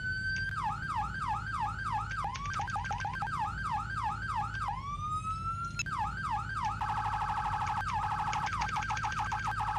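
A police siren in Garry's Mod with the Photon lighting mod, in alert mode, cycles through rapid rising-and-falling yelp sweeps, then switches to a faster warbling pattern, loud and continuous with no talk.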